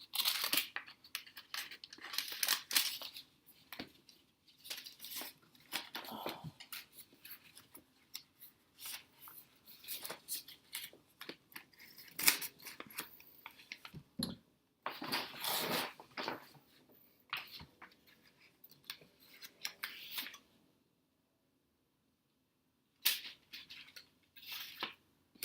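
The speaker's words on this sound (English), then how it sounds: "I just tore off the paper." Paper being torn off makes a long run of close, scratchy rustling, crinkling and ripping noises in irregular bursts. The sounds pause for a few seconds near the end, then resume briefly.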